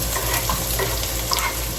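Onion and garlic frying in oil for pancit, a steady close sizzle with a few scattered stirring clicks and scrapes, no talking.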